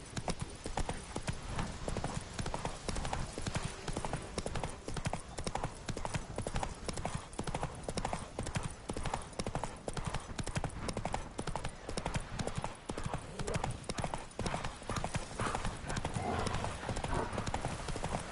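Horse hooves galloping in The Witcher 3 video game, with a fast, steady clip-clop rhythm that runs throughout alongside occasional game speech.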